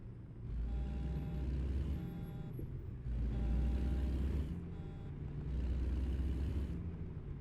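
A heavy truck in American Truck Simulator slows and stops, its low engine rumble swelling and easing in three long waves with hissing bursts and faint tonal beeps, fairly quiet overall with no speech.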